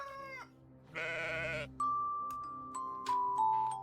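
A sheep bleats from a puzzle game's animal button. It follows a brief earlier animal call and is followed by a few sharp electronic beeps and tones, with no voices.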